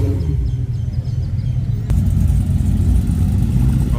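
A Dodge Viper and a Hellcat rolling into a Saturday night car meet in an IHOP lot, a steady loud engine rumble that swells slightly partway through, with no talking.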